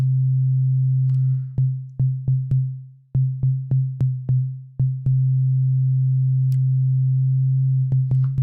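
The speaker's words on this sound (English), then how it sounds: "So I'm going to break out my oscillator so we can look at what's going on." A steady low synthesizer oscillator tone hums throughout, interrupted by a string of sharp clicks and brief dropouts in the middle before resuming.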